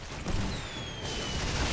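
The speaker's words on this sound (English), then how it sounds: "more fireworks shooting" Fireworks shooting in the video game Bulletstorm, a dense rumbling barrage of booms and crackling bursts with whistling streaks rising over it, loud and continuous with no talking.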